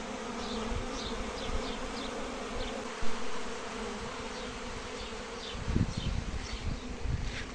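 Steady, faint buzzing of many honeybees around a hive, a continuous drone with individual bees passing close now and then.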